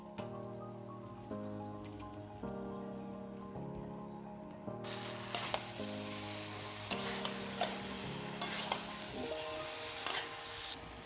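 Boiled jackfruit and potato stirred and fried in a pan, with crackling sizzle and repeated spatula scrapes, while a steady background tone runs underneath, no talking.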